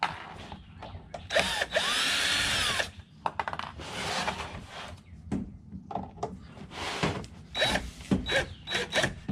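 A power drill backs screws out of the side hinge pieces during a VES ribbon cable repair, with short bursts of high whirring close by, separated by pauses, clicks and handling noise.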